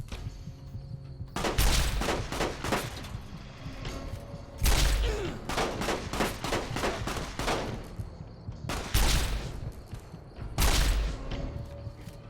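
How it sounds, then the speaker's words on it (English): Bursts of rapid fire from a recharger rifle in Fallout New Vegas, four loud volleys of quick repeated shots separated by quieter pauses. "Stupid recharger rifle."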